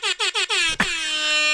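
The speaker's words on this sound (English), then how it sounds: "I want that air horn." Four short, loud air horn sound-effect blasts sound in quick succession, followed by a sharp burst and then one long sustained air horn blare.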